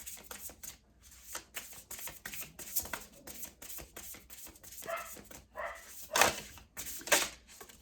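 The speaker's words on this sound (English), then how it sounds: "my puppies are barking" Small dogs bark in quick, sharp bursts, some nearby and some a little farther off, with brief pauses and faint shuffling between yips.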